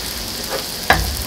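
Onions frying on a hot griddle for smashed burgers, a soft continuous sizzle with a brief stirring scrape and a sharper clatter partway through, no talking.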